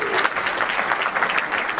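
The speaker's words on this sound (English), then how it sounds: "So I really want all of you to applaud for yourself for doing that." Audience at a TiEcon SoCal chapter address giving themselves a round of applause, a brief, busy burst of many hands clapping at a steady level throughout.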